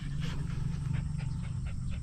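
A dog pants in quick, rhythmic breathy bursts, several per second, close by and steady over a low background hum.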